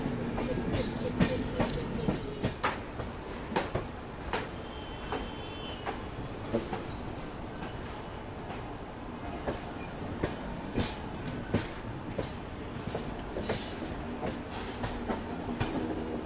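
A train on Indian rails passes over the Nagpur diamond crossing near the station outer, with steady rumbling and a series of sharp wheel clacks at irregular intervals, a continuous mid-loudness ride with no voices.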